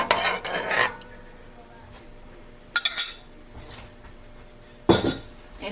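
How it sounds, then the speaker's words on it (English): A measuring cup stirs a mixture in a pot for oxtail, giving a few clinking and scraping bursts close by, with quieter stretches between them. "I'm going to mix this up"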